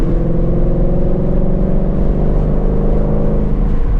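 Supercharged engine of a Mustang Shelby GT500 in sport mode, a loud continuous droning roar held steady and close throughout, with no voices.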